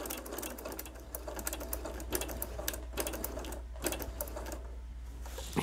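A sewing machine stitches a quilt-as-you-go machine cover along a seam line, giving a quiet, rapid, rattling run of needle strokes with small pauses over a low background hum.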